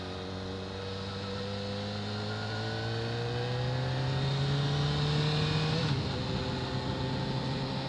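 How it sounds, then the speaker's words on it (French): A car engine turns over at low rpm during a test drive, a steady droning hum whose pitch creeps gradually upward before dipping briefly near the end, with no one talking. "même si le moteur est agréable à bas régime"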